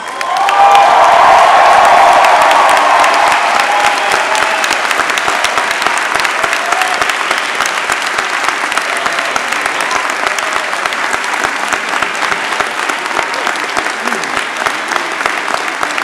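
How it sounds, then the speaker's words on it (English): Standing graduates at the 2017 WPI commencement give their families and friends a big, sustained round of applause, a thick, even wall of clapping from a large crowd with some cheering, holding steady for the full stretch. "thank them with a big round of applause"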